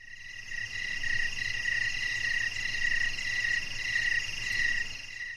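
Steady, continuous high-pitched chirping of insects or frogs in a night chorus, even and unbroken throughout, with a faint low hum underneath.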